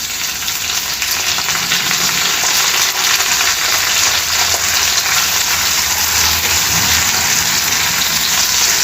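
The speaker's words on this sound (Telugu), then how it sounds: "ఉల్లిపాయలు 1 నిమిషం పాటు వేయించుకోవాలి" Finely chopped onions with two dried red chillies fry in a pan of hot oil, giving a loud, steady sizzle that runs unbroken the whole time, with faint stirring underneath and no voices.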